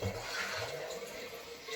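Water siphoning out of a 55-gallon drum into a keg for an off-grid cabin shower setup, a steady close gurgling and rushing flow that runs without a break.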